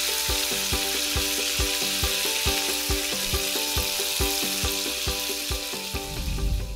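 Beef tenderloin searing in a hot pan: a close, continuous sizzle with regular crackling pops, heard alone with no voices.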